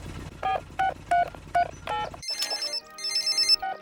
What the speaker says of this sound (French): Allô? Allô, Papa Pig?